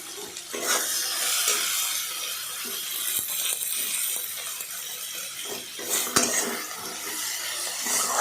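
Ground cumin, coriander and turmeric being stirred in a cooking pan for an egg and broad bean curry, a steady close scraping and clinking of utensil against metal with a faint sizzle, no talk.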